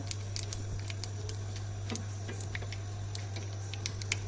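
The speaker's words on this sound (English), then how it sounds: "Be careful while you're doing this because jeera and mustard seeds will sputter" Cumin and mustard seeds sputter in hot oil with sparse, quiet crackles and pops scattered irregularly over a steady low hum.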